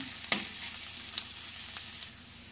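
Garlic sizzles in hot oil in a pan for a mungbean sotanghon dish, a steady hiss broken by a sharp crackle near the start and a few smaller pops after.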